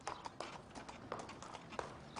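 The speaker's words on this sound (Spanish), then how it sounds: "Viajó con un carro tirado por un caballo" A horse pulling a cart clip-clops along a path beside a temple, the hoof strikes coming in an uneven walking rhythm, moderately close and fairly quiet, with no talk.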